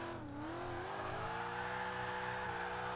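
A car in the Forza 5 racing game held in a drift, its engine revving steadily at high pitch with a continuous loud roar and slight pitch swings throughout.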